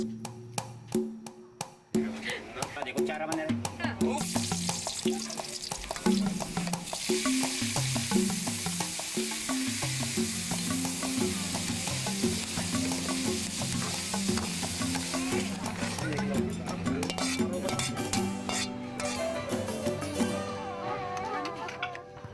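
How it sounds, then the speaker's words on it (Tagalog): Rat innards cook in a pan, giving a continuous dense sizzle with busy stirring and clatter for the whole stretch. Some tonal sound runs underneath. "Pagkatapos iluto ang mga lamang loob ng daga"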